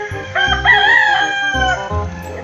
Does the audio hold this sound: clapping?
no